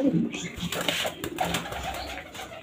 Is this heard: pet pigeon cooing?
yes